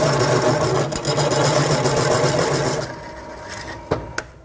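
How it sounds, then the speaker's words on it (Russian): A cone-shaped step drill boring through stainless steel on a Suzuki Boulevard VZR1800 (M109R) during a USB installation, making a steady loud whirring grind that eases off near the end and finishes with a couple of sharp clicks. "Используем обязательно конусное такое ступенчатое сверло, потому что если сверлить просто большим сверлом, оно порвет эту нержавейку"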